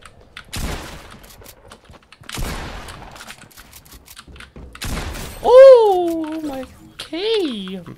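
Loud bursts of rapid gunfire from the Fortnite video game come in three separate volleys, with a young voice talking over the later part.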